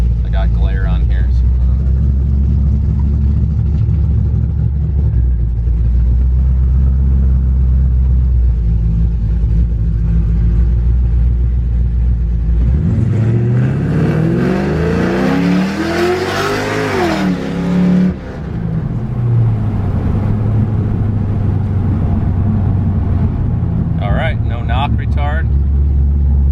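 A 500-horsepower Pontiac GTO rumbles loud and close at a steady rough idle, then revs hard in a rising, surging sweep as it accelerates before settling back; voices can be heard around it.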